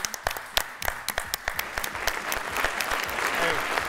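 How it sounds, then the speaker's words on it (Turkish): A studio audience on a Turkish TV show claps, starting as separate sharp claps that quickly swell into steady, fuller applause. "iki başarılı hanımefendiyi bence kapanışta bir kez daha alkışlayalım"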